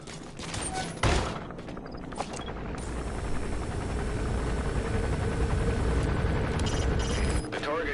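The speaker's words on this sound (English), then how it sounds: "Looks like the arms dealer's chopper is on patrol for the security forces." An arms dealer's patrol helicopter in Metal Gear Solid 5 drones with a continuous rotor roar, with a sharp burst of gunfire-like cracks near the start and game sounds mixed in, no voices.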